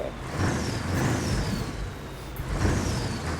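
A bus in a video game settles with air brakes, soft hissing bursts over a low rumbling engine, repeating at intervals at moderate loudness.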